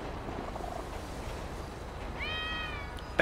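A single cat meow in GTA V rises clearly over a steady low background hum, followed by a brief sharp noise at the end.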